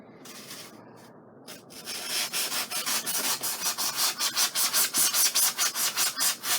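Sawing through styrofoam starts quietly, then settles into fast, rhythmic back-and-forth strokes, each a harsh, squeaky rasp close up.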